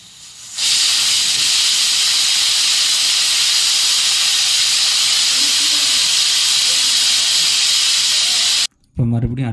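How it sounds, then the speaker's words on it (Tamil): A pressure cooker on a lit stove releases a loud, steady steam hiss for about eight seconds while hotel-style ven pongal cooks inside, then the hiss cuts off abruptly near the end. "அடுப்பை பற்ற வச்சு ஒரு 5லேருந்து 6 விசில் விட்டு எடுத்துக்கலாம்"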